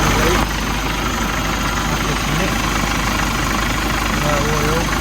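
An HGV truck diesel engine running at a steady idle with a broad, constant rumble and slight knock, loud and close throughout, following a brief louder burst at the very start.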